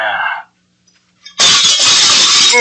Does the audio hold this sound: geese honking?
no